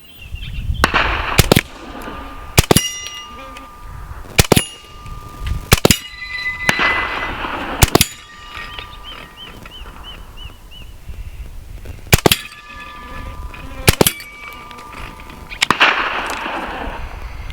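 Full-auto bursts from a Hatsan Blitz .30 caliber air rifle fired at a 100-yard target, sharp loud cracks in short clusters separated by pauses, with mechanical clicks and faint ringing between volleys.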